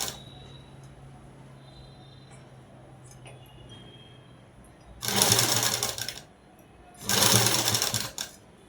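A sewing machine stitches fabric for a dress in two loud, close bursts of rapid whirring, each lasting about a second, separated by a quiet pause over faint background hum.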